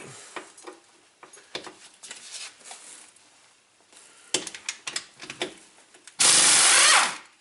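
A pneumatic impact wrench hammers at rusted hub bolts on a Subaru hub assembly: scattered scrapes and clanks of tools, then one loud, steady burst of rattling near the end, close and harsh.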